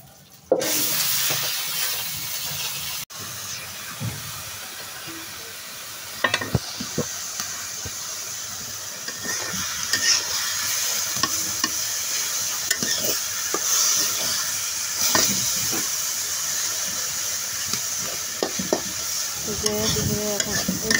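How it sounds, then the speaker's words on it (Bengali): Red amaranth greens fry in a pan with a steady, close sizzle while a spatula stirs and scrapes now and then across the whole stretch. "এখন আমি লাল শাকটা সুন্দরভাবে ভেজে তুলে নেব"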